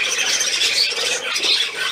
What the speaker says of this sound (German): Kleine Möwe.